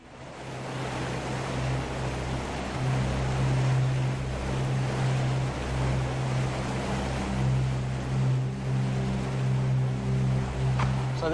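Rapids on an Arctic river in Alaska's tundra wilderness rush in a continuous broad roar of churning water, joined partway through by a low steady motor drone.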